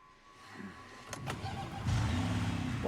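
Car engine cranking and catching in the video game Resident Evil Requiem, with brief clicks and mechanical whirring before a steady low idle rumble sets in, fairly close and unaccompanied by talk.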